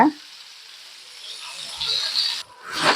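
Bitter gourd fry stirred in a hot pan, a soft continuous sizzle that swells toward the end, opening with a brief voice and a short gap in the hiss.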